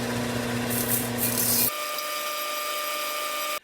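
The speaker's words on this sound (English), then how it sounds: "I'm just going to kind of put it on my sander here and just kind of sand it down a little bit" A power sander rubbing down the edge of a round wooden coaster, a steady loud abrasive whir that cuts off partway through, then a motor humming down alone before stopping.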